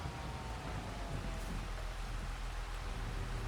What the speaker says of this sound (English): And now it's raining, and we have another chance of hail in the forecast.